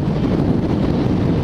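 Wind rushing over a motorcycle helmet at about 90 km/h, a loud, steady, broadband roar close to the microphone with no talking.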